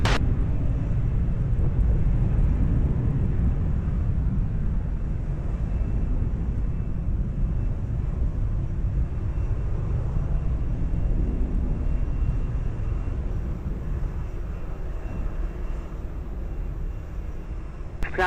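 Fixed-wing airliner approaching runway 20 at Lisbon Airport, a steady broad jet roar heard from a distance that slowly fades, continuous and without talk.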